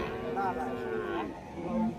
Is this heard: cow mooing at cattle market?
yes